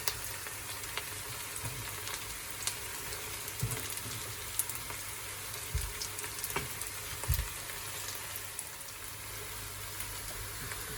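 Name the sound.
garlic and onion frying in pan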